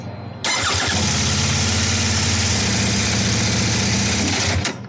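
A CFMOTO 800NK motorcycle engine roars to life and runs loudly with a rough, rapid mechanical rattle, then cuts off abruptly.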